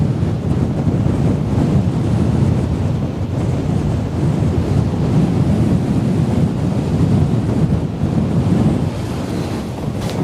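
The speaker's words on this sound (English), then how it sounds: "Wow, the wind is getting nasty." Strong coastal wind roars steadily and loudly across the whole stretch by the Westerschelde shore, buffeting the microphone, with surf and water noise beneath and no pause in the gusting.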